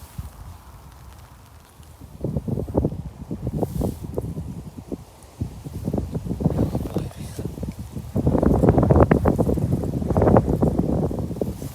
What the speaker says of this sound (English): you gotta love a bit of wind and rain